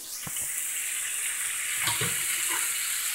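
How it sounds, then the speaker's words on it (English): Mussels plunge into a pot of boiling, steaming water, giving a broad bubbling, seething hiss with a couple of soft splashy knocks as they drop in. "we take the pack of mussels and we dunk them in"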